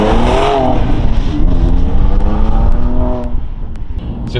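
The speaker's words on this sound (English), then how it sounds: "You can hear more exhaust sound, but it's only a little bit more." A BMW M2 Competition with an aftermarket Remus exhaust hums steadily up close, rising in pitch with a smooth drone and a few crisp pops.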